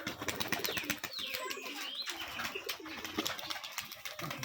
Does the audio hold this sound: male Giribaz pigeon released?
yes